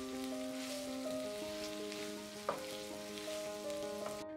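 Carrot, onion and green chili sizzle in a pan for chilli paneer, a soft continuous frying hiss with faint stirring clinks and a light knock midway.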